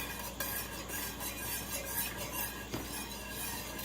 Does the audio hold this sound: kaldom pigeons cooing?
no